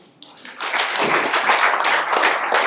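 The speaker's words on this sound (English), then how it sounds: "Round of applause." An audience breaks into a round of applause, starting with a few claps and swelling quickly into loud, sustained clapping close by.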